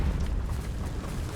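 A Confringo spell blast in the video game Hogwarts Legacy, a deep, rumbling fiery burst that roars steadily and loudly through its short length.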